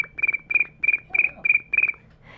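A person imitates cricket chirps with the voice, producing about seven evenly spaced bursts of rapid, trilling pulses, loud and close in a quiet setting.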